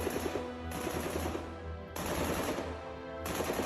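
Gunfire in a war film set at Rezang La, India, in 1962 comes in bursts of rapid automatic rattling with short lulls between volleys, heard at moderate distance and without talk.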